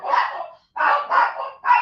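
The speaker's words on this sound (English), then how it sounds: "you can hear the dogs barking" Several dogs bark in short, close bursts, four quick yaps with brief gaps between them, loud and clear with no other sounds.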